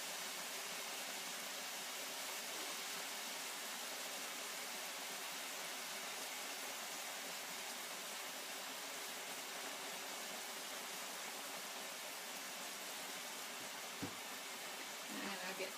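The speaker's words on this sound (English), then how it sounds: "I'm going to get some water for our peas." Tap water pours steadily into a pot for cooking peas, a continuous broadband rushing hiss lasting throughout, with a small clink near the end.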